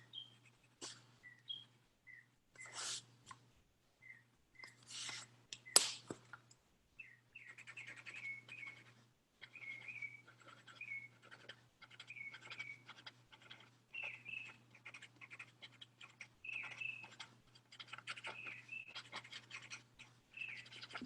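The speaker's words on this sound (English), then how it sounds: "The birds really are chirping away." Birds chirp and tweet outdoors in short, repeated bursts of calls, fairly quiet and spread across the whole stretch over a faint steady low hum.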